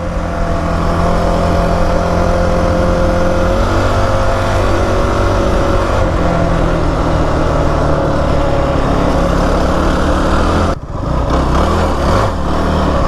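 Kawasaki KFX 450R quad's engine lugging at low revs in fifth gear, a steady loud drone with low harmonics held throughout, briefly dipping near the end before carrying on.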